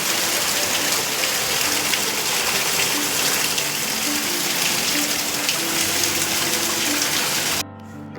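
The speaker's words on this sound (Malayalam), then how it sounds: "ഉച്ചയ്ക്ക് 12 മണി കഴിഞ്ഞ് ഇപ്പോഴും നല്ല മഴ തന്നെ." Steady, heavy rain pours down outdoors on a rainy afternoon in rural Kerala, a dense continuous wash of drops hitting surfaces that stays loud throughout before cutting off abruptly near the end.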